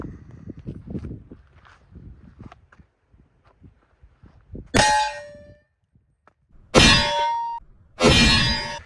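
7.62x51 (.308) rifle rounds strike an armor plate outdoors, giving three loud, sharp metallic clangs with ringing tails, spaced a second or two apart, after a stretch of quiet footsteps and faint movement.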